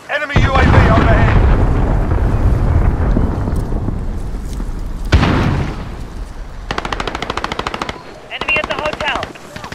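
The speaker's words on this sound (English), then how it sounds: "Enemy cruise missile incoming." Loud explosion and blast rumble in the Call of Duty Modern Warfare video game, followed by a second heavy impact and bursts of rapid machine-gun fire, with game voice callouts heard in between.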